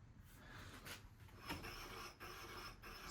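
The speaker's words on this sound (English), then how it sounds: "It's a bit of a rub on the drum by the sounds of it" A bicycle drum brake rubs faintly on a shared-bike wheel, giving a quiet, continuous scraping hiss with slight rhythmic swells as the wheel turns, heard close and alone.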